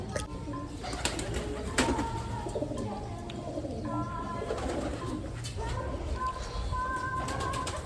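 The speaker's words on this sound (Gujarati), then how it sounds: "બાકી જો અહીંયા કાં કબૂતર છે" Pigeons coo softly and repeatedly nearby, with scattered bird calls and occasional wing flaps over a low background rumble.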